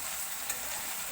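Cauliflower and potato pieces frying in a pan, a loud steady sizzle with a brief stirring knock, heard close with no talk.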